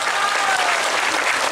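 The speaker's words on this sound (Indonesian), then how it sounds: "Tepuk tangan untuk NU." Audience applause at a lively religious talk, dense continuous clapping from a crowd filling the whole short stretch.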